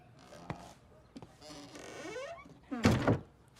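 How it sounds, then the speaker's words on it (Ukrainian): A door closes indoors during a Ukrainian film scene, landing as a dull, close thunk followed by a lighter knock, with voices talking and exclaiming around it. "А ну двері закрив."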